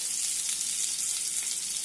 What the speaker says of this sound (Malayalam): ലോ ഫ്ലെയിമിൽ വെച്ച് വേണം ഇത് വറുത്തെടുക്കാൻ